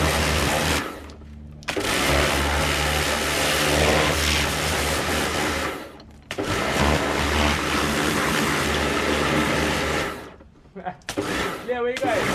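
A Kawasaki KX450 dirt bike engine revs hard in repeated long bursts, dropping briefly between them, loud and close, with people talking nearby.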